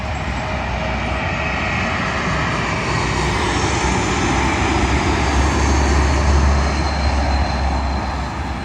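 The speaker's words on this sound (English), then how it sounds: "Arriving in now is a KLM Embraer E195 working a service from Amsterdam" A KLM Embraer E195 arriving at London Heathrow from Amsterdam passes close by with a loud, sustained jet roar that swells slightly toward the end, alone without talk.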